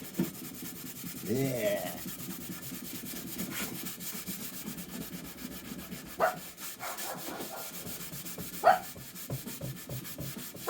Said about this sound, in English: Maybe I'm scratching this too hard.